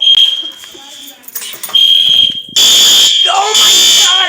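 Fire alarm sounding inside a shelter, a loud piercing continuous electronic tone that cuts out briefly, then returns even harsher with a pulsing siren, while people talk nearby.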